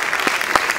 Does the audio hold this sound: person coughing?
no